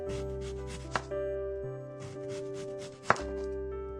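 A knife chops an onion in a kitchen: two sharp, separate cuts heard close under steady background music, with no talk.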